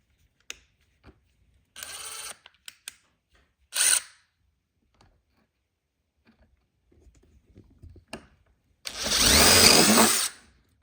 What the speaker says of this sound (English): Take a little bit of time to make sure that your drill is on the dimple you made.